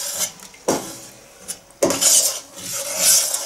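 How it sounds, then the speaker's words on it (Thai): A spoon stirring sugar into coconut milk soup with water lily stems and mackerel in a pot, giving a few scraping clinks against the metal with short bursts of rubbing and swishing between quieter pauses. "จากนั้นคนให้น้ำตาลละลายนะคะ"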